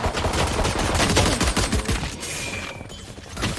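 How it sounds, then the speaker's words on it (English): Several grenades from the agent Raze detonating in a competitive team shooter match, a loud dense run of overlapping blasts and crackling impacts that thins out toward the end. "4 grenades from Raze coming out"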